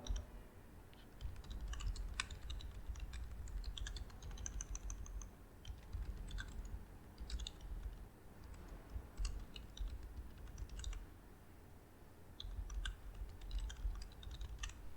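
Rapid, uneven clicking of a computer keyboard as an email subject line is typed, close and fairly quiet, with short pauses between bursts of keystrokes.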